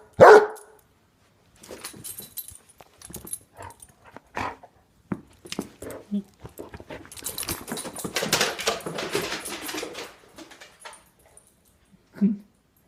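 A Basset Hound barks and whimpers during a game of fetch, scattered close barks and whines spread across the stretch, with a denser run of yelps midway and a final sharp bark.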